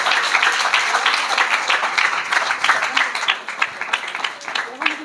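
A church congregation at a Christmas service claps hands loudly, a dense, sustained burst of applause that thins toward the end, with a few voices mixed in.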